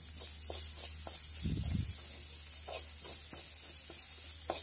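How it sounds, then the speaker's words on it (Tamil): Ginger garlic paste sautéing over a medium flame for a Tamil prawn thokku, a steady broadband sizzle with a few soft stirring scrapes and one brief louder burst of stirring near the pan. "மீடியம் ஃப்ளேமில் வச்சு நல்லா வதக்கி எடுத்துக்கலாம்."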